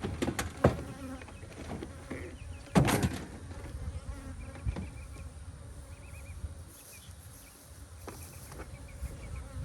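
Honey bees buzz around beehives outdoors, a dense steady hum with occasional louder passes and a few knocks on the hive boxes, no speech.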